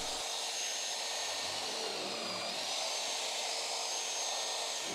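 A steady high-pitched whine of a 32mm annular cutter drilling into a steel boat deck runs throughout, loud and continuous with no voices.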